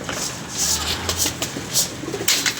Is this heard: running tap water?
no